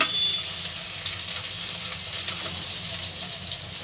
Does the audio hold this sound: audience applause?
no